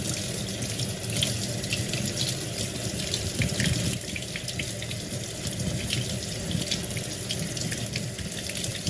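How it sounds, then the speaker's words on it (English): Tap water running steadily into a sink while a soursop fruit is washed under it, a continuous close splashing hiss with slight shifts as the fruit moves through the stream. "So I will wash it off before I actually cut it up"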